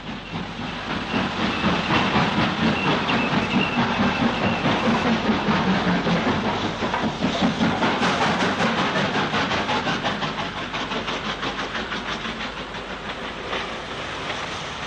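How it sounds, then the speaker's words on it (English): Steam locomotive 49407 shunting at Willenhall in the last days of Midlands steam, a steady loud chuffing and clanking with hiss and wagon rattle, continuous throughout. "Tim Shuttleworth recorded 49407 shunting at Willenhall."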